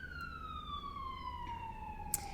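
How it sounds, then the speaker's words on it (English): An emergency vehicle siren sounds near a fire station, a single steady wail sliding slowly downward in pitch as it passes, fairly faint and distant over a low rumble of background noise. "I always send blessings to the sirens, and we're next to a fire station, so there's a lot"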